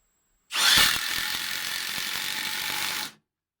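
A Milwaukee M18 brushless impact driver drives a screw in a shed, a loud, close, rapid hammering rattle lasting about two and a half seconds before stopping abruptly, with no talking.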